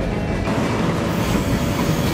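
A passenger train rolls through Alaska with loud, continuous rail rumble and clattering wheel noise filling the carriage, steady throughout with no voices.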